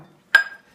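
A single bright clink of a glass bowl struck once in a kitchen while whole wheat flour is prepared, a sharp ringing tap that fades quickly into silence.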